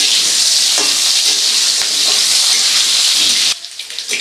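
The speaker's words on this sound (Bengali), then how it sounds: "নুন হলুদ ছাড়াই সজনে ডাঁটা আর আলু দুটোকেই ভেজে নিতে হবে" Moringa drumsticks and potato pieces frying in hot oil with no salt or turmeric: a steady, dense sizzle that runs on and then drops abruptly to a quieter crackle near the end.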